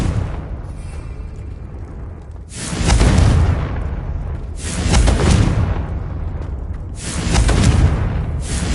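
Three Confringo fire-spell blasts in Hogwarts Legacy hit as loud, booming explosions about two seconds apart. Each one bursts sharply and then rumbles off in a roaring tail over a low background hum.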